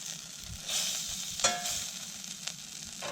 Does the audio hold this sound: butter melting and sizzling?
yes